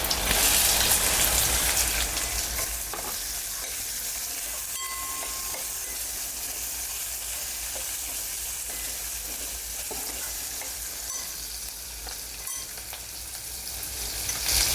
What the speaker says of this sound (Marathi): कांदा घालते